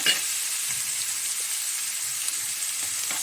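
Onions fry in a pan over a gas flame on medium heat, a steady close sizzle and crackle with a few soft stirring scrapes and no voices.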